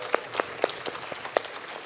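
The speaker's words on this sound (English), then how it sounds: "Hope, let's give Hope a round of applause" A few people in a presentation audience clap briefly, sparse separate claps close by with irregular spacing, thin rather than a full crowd, lasting under two seconds.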